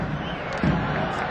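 A dense stadium crowd of football supporters roars and cheers continuously during an Ismaily versus Al Ahly match, loud and sustained with a brief swell of shouting partway through.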